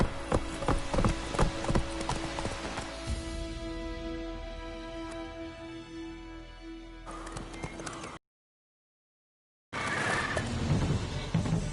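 A horse in The Witcher 3 gallops with rapid, rhythmic hoofbeats and a whinny, close and loud, before the sound cuts to silence briefly and the hooves resume.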